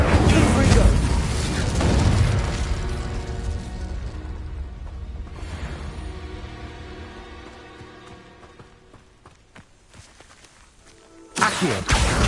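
A Confringo blasting spell is cast in the game Hogwarts Legacy, with loud booming impacts and crackling blasts that fade out. A sudden burst returns near the end, mixed with a shouted game voice.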